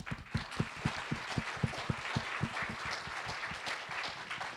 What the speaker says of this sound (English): If you can just raise your hand so we can give you a round of applause.